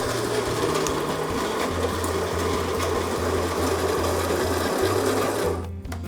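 An electric coffee grinder grinds beans to a fine grind for a Keurig, a loud, steady motor whine running without pause before cutting off abruptly just before the end.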